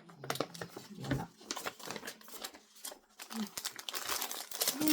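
Glossy printed paper pattern sheet for a paint-by-number style kit being handled, with loud crinkling and rustling bursts throughout, close to the microphone and without talk.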